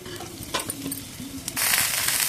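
Cumin seeds and chopped green chillies hit hot sunflower oil, giving a brief crackle that swells into a loud, bright sizzle near the pan.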